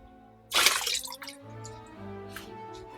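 Whey dripping and trickling from homemade wild garlic cheddar cheese being drained on a plate, a sudden splashy burst followed by a steady faint trickle, no talk.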